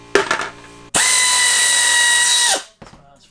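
A power tool drives a bolt on a bus, giving one loud, steady whine for about a second and a half that stops abruptly, with brief clatter and faint voices around it.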